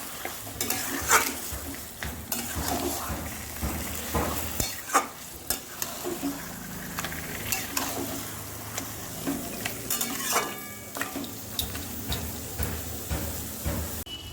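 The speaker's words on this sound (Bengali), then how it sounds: "এবারে খুব ভালোভাবে কিন্তু এটাকে নাড়াচাড়া করে আমি কষাতে থাকবো" Mutton being stirred and braised in a pan, a steady sizzle of frying under repeated scraping and stirring strokes that carry on throughout, close and fairly loud with no talk.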